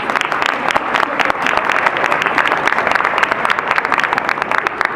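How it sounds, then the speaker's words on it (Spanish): Audience applause for a doctor introduced at a medical lecture on behavioural and psychological symptoms in dementia patients, dense steady clapping filling the hall for the full stretch, loud and close, with no break. "pido un aplauso"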